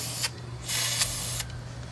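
Two bursts of chain lube sprayed from an aerosol can onto fasteners inside a 1991 Chevrolet S-10 door, the first short, the second longer, loud and close over a low steady hum.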